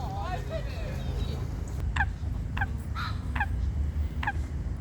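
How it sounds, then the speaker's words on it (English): Coots calling on a pond, sharp short squawks repeated every half second or so, moderately near, over a constant low background rumble with a voice speaking early on. "Looks like the coots are in a feisty mood today."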